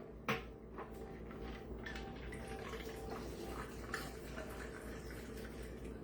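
A rum sour cocktail is poured into a glass over a little ice, giving a soft, continuous liquid trickle with a faint clink of ice near the start.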